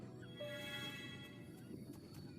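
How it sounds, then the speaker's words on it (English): A pig squeals harshly as it dies in the Windbound video game, a strained, wavering cry that carries over the steady game ambience for a couple of seconds. "Pig is aggressively dying."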